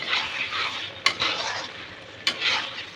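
A spoon scrapes and stirs spice masala with water in a pan for spicy crab curry, a soft continuous sizzle broken by two sharp metallic clinks against the pan, close up and without speech.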